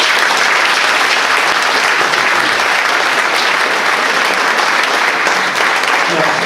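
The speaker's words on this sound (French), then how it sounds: "On l'applaudit bien fort." Loud, sustained applause fills a town hall at a mayor's New Year reception in Bennecourt as a young pétanque champion is honoured, with the close, even clapping continuing unbroken throughout.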